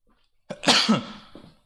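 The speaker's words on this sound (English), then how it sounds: "I gotta sneeze. I really do." One loud sneeze close to the mic after a brief silence, with a sharp intake followed by a forceful burst that trails off.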